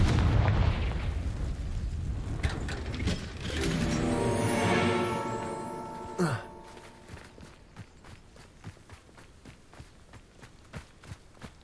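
Confringo fire spell cast in Hogwarts Legacy, a rising magical whoosh that swells into a loud rumbling blast, then a sharp impact followed by fading crackles and footsteps in the game.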